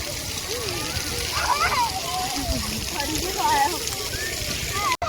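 Warm shower water splashing at an outdoor swimming pool, a steady wash of spray and sloshing under constant background noise, with voices and shouts from people nearby mixed in throughout.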